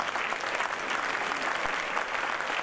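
Dense, steady applause from a large audience at a Christmas concert given by a high school orchestra, a continuous roar of hand claps running evenly throughout without breaks.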